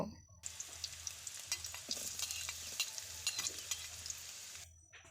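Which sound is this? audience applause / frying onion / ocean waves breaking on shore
frying onion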